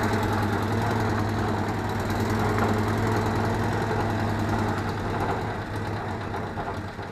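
Citroën Acadiane engine running steadily during a clutch test, a loud, close, even mechanical drone with a low throbbing idle tone and no speech over it.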